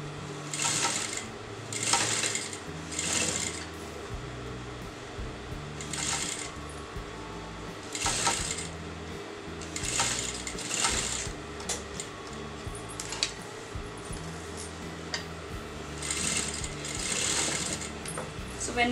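Sewing machine stitching piping onto a kameez neckline, running in short whirring bursts that stop and start as the fabric is turned, with light handling noises in between.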